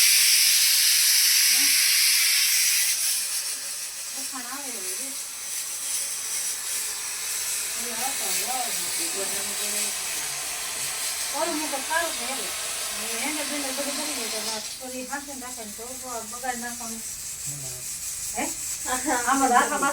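A pressure cooker in a home kitchen hisses steam, starting loud for the first few seconds and then settling into a steady, softer hiss as people talk over it.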